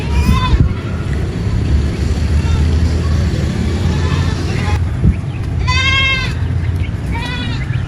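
An aged goat of a well-bred line bleats in a few short, wavering calls near the end, set against steady outdoor rumble and background noise at a home animal enclosure.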